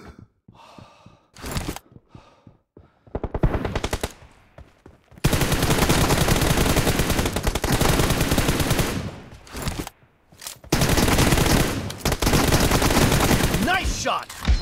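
In a shooter video game, dense bursts of loud automatic gunfire alternate with brief lulls, and short breaths or gasps are heard between the long sustained volleys.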